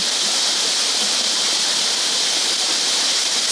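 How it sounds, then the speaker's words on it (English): A loud, continuous rush of water tumbling down a waterfall, dense and unbroken throughout, close by. "the top of a beautiful cascading waterfall"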